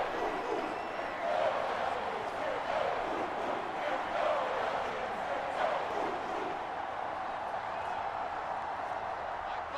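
Crowd noise from a stadium in the Madden NFL 24 video game, during a Jets versus Browns game, forms a steady, moderate roar of many voices, with a commentator's voice heard over it.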